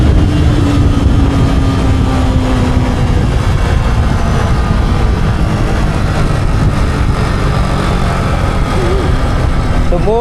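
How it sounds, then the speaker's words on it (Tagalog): Motorcycle speeding on a ride, a loud continuous engine roar mixed with rushing wind noise that holds steady throughout, with a voice briefly heard over it. "Tumulin yung motor ni Jeep."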